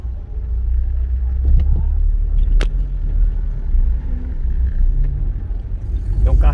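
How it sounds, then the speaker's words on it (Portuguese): Cars pass on a busy two-way road, a steady loud rumble of traffic close by with a few sharp knocks and a brief engine swell near the end. "aqui é um lugar que passa muito carro, né? Duas mãos."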